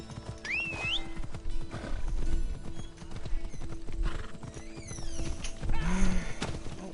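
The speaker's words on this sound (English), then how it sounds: "Horse!" Horse hooves clip-clop on hard ground amid a bustling outdoor scene, with a horse neighing and whinnying now and then, moderately close over background crowd noise.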